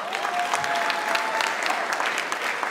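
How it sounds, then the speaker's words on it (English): A comedy show audience claps in a steady, full burst of applause that fills the room for a few seconds, with a faint crowd murmur underneath. "At this point, you have to clap."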